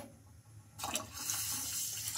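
Water poured into a bowl on a stove, a faint quiet start then a sudden splashing gush that continues steadily as the vessel fills, no talk.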